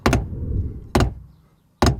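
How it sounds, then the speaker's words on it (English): Drum flams, both hands striking a drum slightly apart so each hit smears into a doubled attack; three loud, close strokes spaced about a second apart, each ringing out briefly, no voices. "These are called flams, where we play both hands together, but slightly apart."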